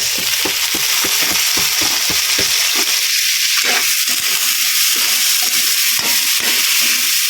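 Tomato and aromatics sauté in a hot pan for a tilapia dish, a loud constant frying hiss over rhythmic spatula taps and scrapes that come quickly at first and then turn sparser.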